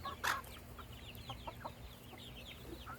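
Backyard chickens, dark-feathered birds, cluck outdoors with one louder call near the start, then scattered softer clucks over a low steady background hum.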